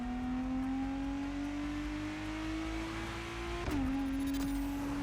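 Lotus Emira engine in the racing game The Crew Motorfest, a steady droning hum climbing slowly in pitch as the car accelerates, with a brief shift dip near the end, loud and alone.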